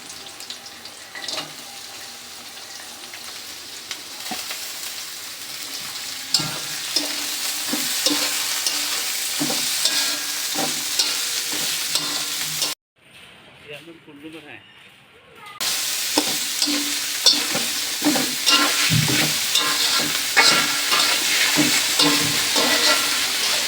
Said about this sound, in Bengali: এখন কেটে রাখা আলুগুলো দিয়ে দিব।